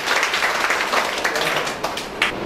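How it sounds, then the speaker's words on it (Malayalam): Seminar audience applauding to welcome Dr. Zakir at an agricultural event, a brisk burst of clapping that fills the clip and thins slightly toward the end. "ഡോക്ടർ സക്കീറിന് കയ്യടിയോടുകൂടെ ഞങ്ങൾ എല്ലാവരും സ്വാഗതം ചെയ്തു."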